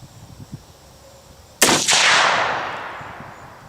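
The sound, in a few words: 7mm-08 handgun firing a 162 grain AMAX round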